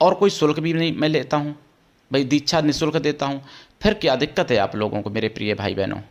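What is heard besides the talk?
No distinct noise like a dog, phone or traffic.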